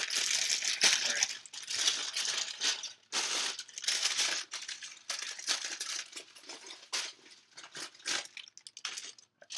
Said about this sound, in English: I apologize for the sound of plastic bags being opened.